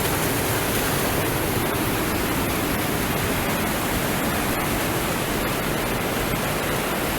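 Dense, steady rushing roar of a hidden mountain waterfall cascading down beside a steep 4x4 mountain road, loud and close, with no voices.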